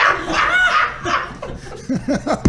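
A dog's barks and yips play back from a recording, several short bursts near the end, following an opening of whining, voice-like sounds.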